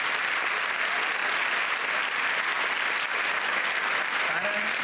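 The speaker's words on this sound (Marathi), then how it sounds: "आपल्या पोलीस डिपार्टमेंटसाठी जोरदार टाळ्या वाजवायला पाहिजे" An audience at a Mumbai police event for tobacco-free school zones claps for the police department, a dense, loud, sustained wall of applause from a large crowd that runs steadily without a break.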